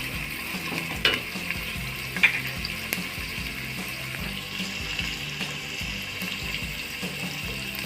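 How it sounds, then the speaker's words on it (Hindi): Garlic and ginger fry with golden onions in a pan, giving a steady close sizzle with stirring and a few sharp clinks of a utensil against the pan. "अब जो है इसमें लहसुन और अदरक भी डालेंगे अभी हम। दो 3 मिनट फ्राई करेंगे।"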